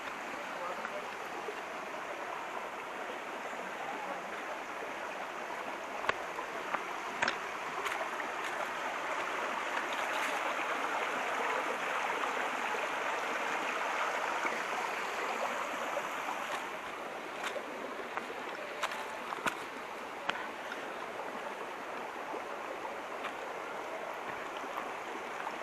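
Stream water at Sunnappugadda waterfalls near Seetampeta, Srikakulam, rushes over rocks in a soft, steady wash that holds throughout, with faint scattered clicks and no speech over it.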